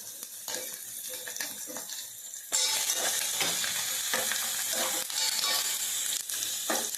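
Tempering spices for a tamarind chicken curry frying in a pan, a close crackling sizzle that jumps louder partway through and carries on with scattered pops and clinks; no talking.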